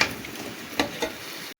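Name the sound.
elephant foot yam frying in oil with salt and turmeric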